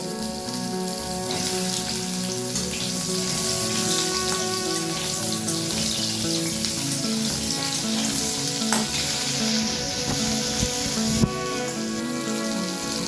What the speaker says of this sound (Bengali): মাছ ভাজার তেলের মধ্যে পটলগুলোকে আমি ভেজে নেব